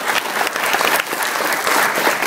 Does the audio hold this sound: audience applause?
yes